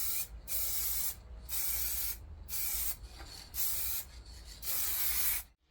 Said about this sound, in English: what I'm going to do now is just put a quick coat of lacquer on, just protect the pictures on these